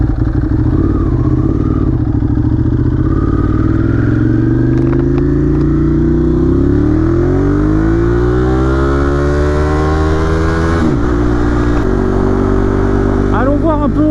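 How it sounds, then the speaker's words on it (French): A Ducati Monster 821 motorcycle with a Termignoni exhaust runs loud and close, its engine note rising and swelling as it accelerates, then settling again, with a steady low rumble throughout. "le pot Terminoni, il chantonne, hein. Il chantonne plutôt pas mal."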